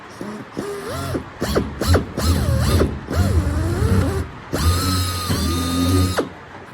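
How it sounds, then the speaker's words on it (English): Power drill boring holes through the top skin of an aircraft wing near the wingtip, several short bursts of whirring separated by brief pauses, close and loud with no talking. "Some more holes to drill on the top skin."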